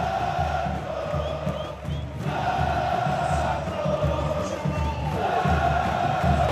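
Dense roar of a football crowd at Vila Belmiro as Santos take the field against Corinthians, steady loud massed chanting and cheering without pause.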